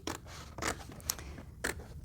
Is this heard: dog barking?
no